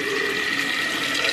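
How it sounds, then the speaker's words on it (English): Tap water steadily running and filling a container in a home kitchen, a continuous close splash and rush with no talking. "I must refill the water for dinner."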